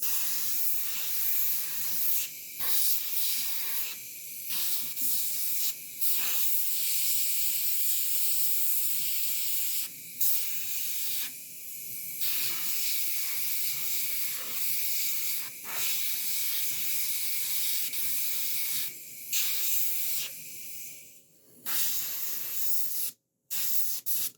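Airbrush spraying transparent black paint onto a quarter-scale samurai Wolverine figure, adding shadow around the soles and straps: a close, steady hiss running in long bursts, broken by brief pauses as the trigger is released.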